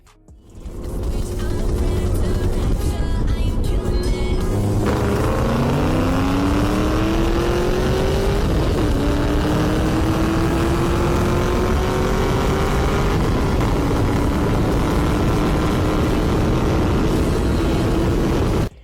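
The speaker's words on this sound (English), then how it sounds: "Here's a Cobalt SS keeping up with a Camaro SS" A Chevy Cobalt SS with a 2.0 four-cylinder races a Camaro SS with a 6.2-liter LS3, engines roaring loudly as they accelerate, rising through gear shifts in a sustained, close run with no talk.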